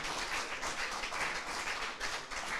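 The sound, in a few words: audience applauding the contestants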